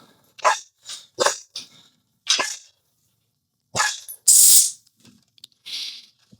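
A dog barks repeatedly at close range in short sharp bursts with brief pauses, then gives a louder huffing bark and a few softer yips, with no talking over it.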